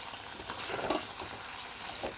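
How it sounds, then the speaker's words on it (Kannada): Chicken sukka with coconut stirred in a pan, a steady soft sizzle with light scraping and shuffling from the spoon, close and continuous with no talking. "ಹಾಕಾದ್ಮೇಲೆ ಚೆನ್ನಾಗಿ ಮಿಕ್ಸ್ ಮಾಡ್ಕೋಬೇಕು"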